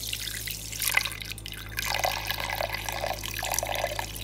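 Milk is poured for cold coffee in a home kitchen, a soft, trickling liquid pour with light splashes and drips, close and steady, with no voices.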